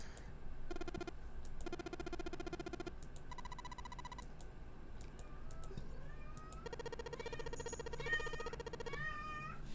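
Repeated synthetic cat meows from the video game 999 play in short, separate bursts, bright and tonal against a quiet background, with no talking.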